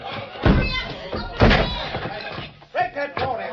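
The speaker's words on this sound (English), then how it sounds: "Break that door in." Old-time radio drama sound effect of a locked door being smashed in: two heavy crashing slams about a second apart, close and loud, followed by lighter knocks and clatter, with voices of actors mixed in.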